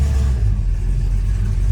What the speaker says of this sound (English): Idling good, right, Doug?